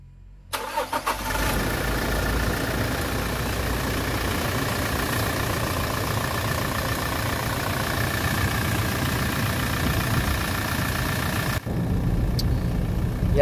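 A 2020 Toyota Hilux engine cranks and catches, then settles into a steady, even mid-pitched idle close by, running on with no voices.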